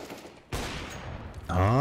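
A short burst of gunshots in a Counter-Strike match, a sharp crack followed by a brief noisy volley, with a commentator's voice coming in at the end.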